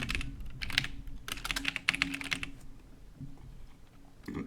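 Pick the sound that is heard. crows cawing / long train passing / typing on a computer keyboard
typing on a computer keyboard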